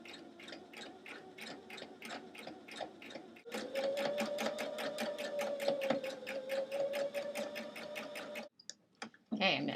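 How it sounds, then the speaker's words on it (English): Sewing machine stitching around the cuff of a pant leg: a steady rapid ticking rhythm with a humming motor, quieter at first, then faster and stronger before a brief stop and restart, with faint talk underneath. "keep sewing all the way around"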